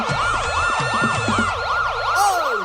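An ambulance siren wails loudly and steadily in repeated rising and falling sweeps for the whole stretch, close by, with a faint low rumble underneath and no talking.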